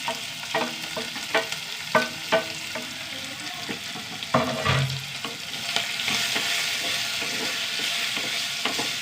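Ginger and green chillies fry in hot oil with a steady broadband sizzle, punctuated by scattered spoon scrapes and stirring clatters, close and fairly loud with no talking.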